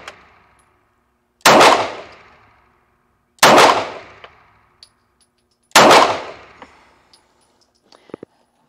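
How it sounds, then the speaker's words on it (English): A Cosaint Arms COS11 handgun fires three loud, sharp shots at spaced intervals, each with a ringing decay, followed by faint metallic clicks and clatter at the end. "Wow, that is a smooth shooting gun."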